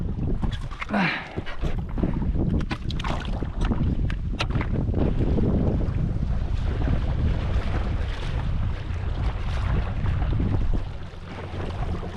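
Wind gusts roar steadily across the microphone on a boat anchored on Lake Chancelade during carp fishing, with a loud continuous rushing and buffeting that stays constant throughout.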